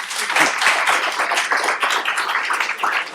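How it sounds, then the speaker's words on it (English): A tech-talk crowd applauds speakers with a dense, continuous wash of many hands clapping at once, steady and moderately loud throughout. "I'd like everybody to give a round of applause to Dario and Tom, please."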